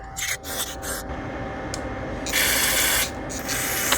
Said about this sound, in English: So we're just gonna spray it through everywhere.